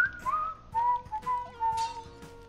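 A person whistles a short wavering tune, a few clear close notes sliding up and down over about two seconds against quiet background game sounds.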